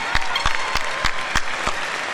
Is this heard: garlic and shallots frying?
no